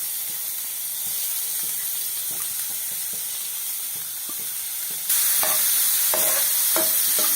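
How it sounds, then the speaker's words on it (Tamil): Finely chopped onions frying with mustard seeds and crushed garlic for a bean and carrot stir-fry, a steady close sizzle with stirring scrapes that grows louder and brighter partway through. "அப்புறம் வெங்காயம் நறுக்கி வச்ச வெங்காயத்தை இதில் போட்டு வதக்குறேன்."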